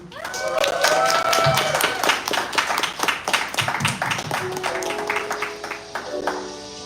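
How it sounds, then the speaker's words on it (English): An audience in Fort Worth applauds a speaker at a line dancing event, with dense, steady clapping from many hands that tapers toward the end while a few voices talk underneath. "One more round of applause for our lovely speaker"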